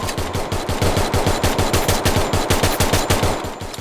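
Rapid automatic gunfire in a video game, a fast, even burst of about twenty close, loud shots rattling off without pause.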